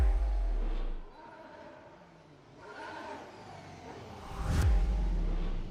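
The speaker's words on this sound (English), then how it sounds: "We can hear the car noise." A Formula 1 car engine heard on a preseason testing broadcast, a droning mid-pitched engine that dips quieter in the middle and then swells louder again, with a brief sharp burst near the end.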